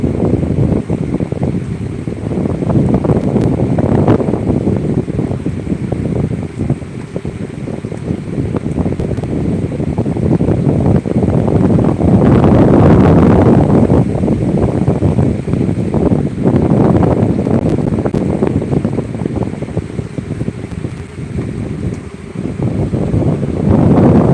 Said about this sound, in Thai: ลมแรงค่ะ คุณผู้ชม ลมแรง ค่ะ